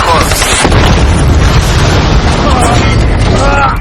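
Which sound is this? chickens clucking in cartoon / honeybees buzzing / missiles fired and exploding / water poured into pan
missiles fired and exploding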